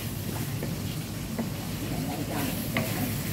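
Chicken is stirred in a frying pan, with a continuous sizzling hiss and a few light scraping clicks from the spoon coming through at irregular intervals.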